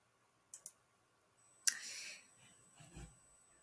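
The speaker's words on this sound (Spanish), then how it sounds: "hago clic." A computer mouse gives two quick, crisp clicks, then a sharper click follows after a pause, with faint soft rustling afterward in an otherwise quiet room.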